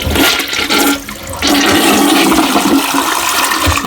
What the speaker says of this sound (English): Let's flush it, take a look at it.